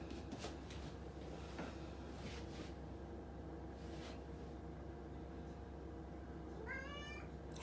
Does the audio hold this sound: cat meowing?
yes